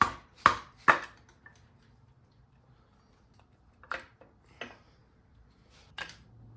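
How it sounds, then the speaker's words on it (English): Sharp metallic taps strike a Honda D16Y8 engine's oil pump to free it after its bolts are removed: a quick pair of knocks, a pause, then three more scattered hits, close and crisp in a quiet workshop. "All the bolts are out, so I'm just gonna give it a light tap."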